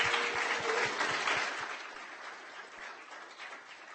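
A round of applause from the crowd at a growth engineering meetup, honoring the evening's speakers: a burst of dense clapping that slowly tapers and softens over a few seconds.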